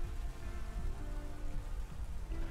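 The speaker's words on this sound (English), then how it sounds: "At least we got the rain up." Steady rainfall patters continuously in a Pokémon video game, a dense, even wash of drops on surfaces with no voices.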